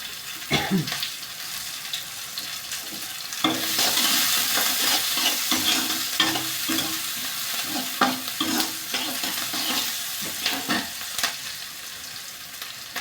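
Chopped onion frying with a pinch of salt in a pan, a steady sizzle that swells after a few seconds and carries on under repeated stirring scrapes and clatters.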